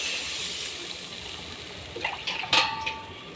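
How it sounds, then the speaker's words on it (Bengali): Water goes into a cooking pot while making daler bora, a soft splashing and trickling under a faint background hiss, ending in a couple of light metallic clinks of the pot and utensils. "হয়ে গেছে, এবার জল দিয়ে দিলাম।"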